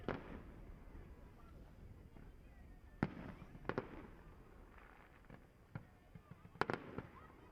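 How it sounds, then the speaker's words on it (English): Fireworks are going off at a speedcar championship meeting in Murray Bridge, heard as scattered sharp bangs and crackles at a distance, faint above a low crowd murmur. "We'll sit back and we'll just watch the fireworks display"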